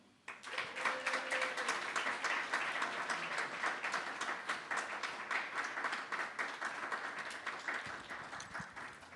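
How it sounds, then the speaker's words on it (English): Audience applause at The Future Is Ours Symposium 2026, a sustained round of clapping from a crowd that holds steady and loud for about nine seconds, then thins slightly toward the end. "if we could get a round of applause first for Amari"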